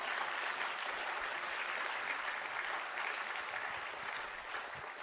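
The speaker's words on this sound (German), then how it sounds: "Applaus" Steady applause from a large crowd at a party conference after a speech, dense clapping that holds at an even level throughout and eases slightly near the end.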